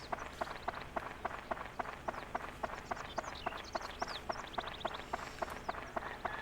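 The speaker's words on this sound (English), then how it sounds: "the sounds of footsteps are burned into my brain" Rapid, evenly spaced footsteps of a running character in Dark Cloud, sharp thuds repeating steadily and fairly close, with chirpy game birdsong and ambient tones layered over the steps throughout.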